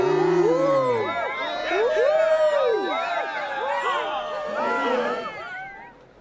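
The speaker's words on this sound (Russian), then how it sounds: "Аплодисменты!" An animated concert audience cheers and whoops for a winning singer, with rising and falling shouted voices over a crowd murmur, loud at first and easing toward the end.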